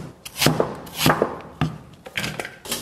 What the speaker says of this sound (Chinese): 姜给它切成小片。